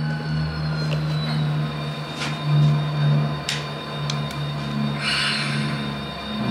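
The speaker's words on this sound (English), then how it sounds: "Almost sounds like a radial engine." A continuous low engine drone with a rough, throbbing tone, like a piston-engine plane overhead, joined by a few brief higher clicks and hisses.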